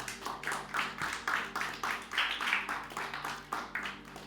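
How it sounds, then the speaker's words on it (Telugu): A church congregation claps loudly in praise to God, a dense, rhythmic wash of many hands swelling in repeated waves, close and continuous for the whole stretch. "ఒకసారి బిగ్గరగా చప్పట్లు కూడా దేవునికి స్తోత్రాలు చెల్లిద్దాం."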